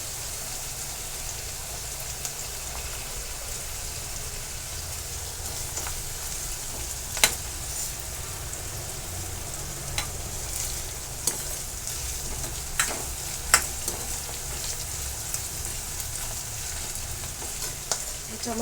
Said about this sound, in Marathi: अजून थोडा कांदा व्यवस्थित भाजून घ्यायचा.